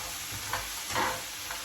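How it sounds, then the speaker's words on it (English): Vegetables sizzle steadily in a hot frying pan while stirred, with soft scraping pushes breaking through the constant frying hiss. "we're going to mix this around for about 5 minutes"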